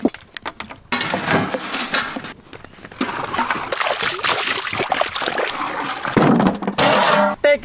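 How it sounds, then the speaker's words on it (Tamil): Water poured into a cooking pot while a whole-goat mutton curry is made, an uneven splashing and trickling that starts and stops, with a voice talking in the background. "தண்ணி."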